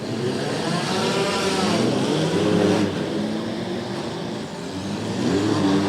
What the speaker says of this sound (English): Dave Christian with a reverse donut to make contact with another car.